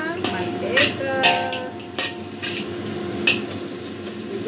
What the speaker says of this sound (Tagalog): Like this, we fry the pork.